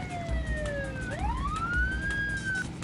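Emergency siren in the Midtown Madness racing game: one falling tone, then a sharp switch into a long rising wail, loud and near over constant car engine noise, with no voices.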